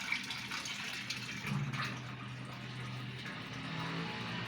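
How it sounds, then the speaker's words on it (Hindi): Water rushes from a pipe into a tank under strong mains pressure with no pump running, a steady, close, broadband gushing that holds evenly throughout. "इस वक्त जो पानी बिना मोटर के काफ़ी प्रेशर से आ रहा है"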